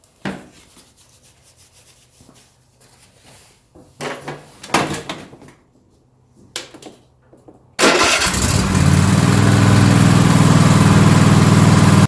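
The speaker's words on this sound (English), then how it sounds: "start the engine up, let it run for a minute" A Kohler 7000 series engine on a Cub Cadet XT2 lawn tractor turns over and catches, settling into a loud, steady idle after some quiet clicks and handling noises beforehand.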